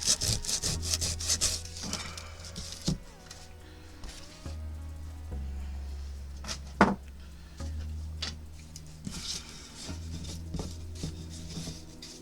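Wood is sanded by hand for a Christmas tree project at a workbench, with repeated close rasping strokes in irregular bursts, interrupted by short pauses and a few knocks.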